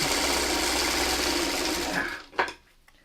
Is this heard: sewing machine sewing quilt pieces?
yes